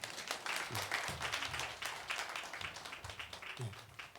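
A church group claps together on cue during a children's Bible lesson, a burst of quick scattered clapping from a small crowd that carries on for several seconds while a few voices call out underneath.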